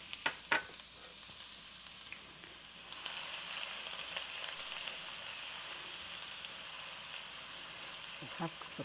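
Half a cup of ginger sizzles in hot oil for a fish pickle, a steady bright frying hiss that swells after a few seconds, with a few clinks and stirring knocks near the start and end.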